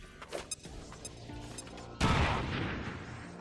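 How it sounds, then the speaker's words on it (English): A grenade detonates in the video game XCOM 2 with a sudden loud blast that lingers as a rumbling roar, preceded by sparse scattered gunfire and thumps in the quieter stretch before it. "Grenade out!"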